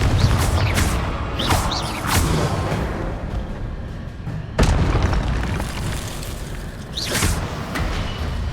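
A Confringo blasting spell in Hogwarts Legacy, played on Xbox One, going off as a series of loud booming explosions with sharp bursts near the start and middle, each trailing into a dense rumbling game soundscape.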